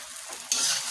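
Vegetables with spices are stir-fried in a new wok, a soft frying hiss that jumps to a louder, bright sizzle halfway through the brief moment; no talking.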